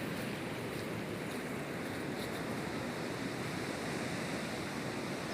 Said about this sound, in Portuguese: Água com força.